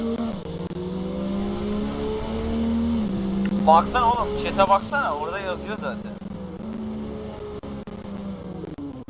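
In the video game Driving Empire, a car engine holds a steady hum as the car drives and brakes, and it rises into a brief burst of revving midway. Someone talks over the engine throughout.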